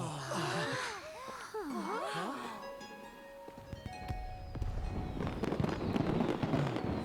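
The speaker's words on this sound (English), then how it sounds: "Fireworks." Fireworks in the video game Genshin Impact crackle and pop in a dense, steady run of bursts, following a stretch of wavering vocal-like tones.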